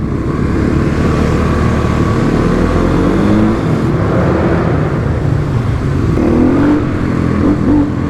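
A Kawasaki KLX351 dirt bike ridden on the road, with its engine droning loud and steady under heavy wind noise, revs shifting as it pulls along, with no talking.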